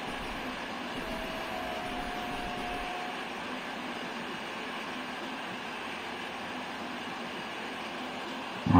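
A long ten-wagon freight train hauled by an EP07 electric locomotive in the MaSzyna train simulator game, rolling with a steady broadband rumble and hiss that continues unbroken, with a brief louder bump at the very end.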